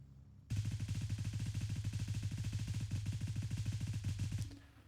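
An M4 rifle with a Razor scope fires on full auto in the Gray Zone Warfare video game, a fast, continuous, evenly spaced burst lasting about four seconds before stopping abruptly.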